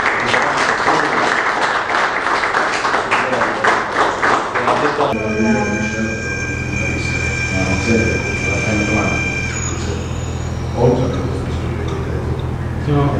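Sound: applause

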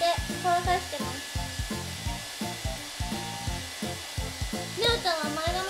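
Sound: hair dryer drying bangs

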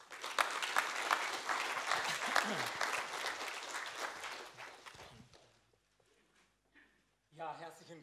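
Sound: audience applause welcoming a lecturer

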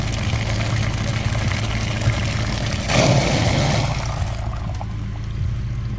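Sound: washing a VW Passat coolant system filter with water

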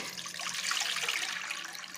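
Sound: pouring half a litre of water for pizza dough

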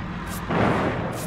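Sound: generator explosion in Dead by Daylight video game

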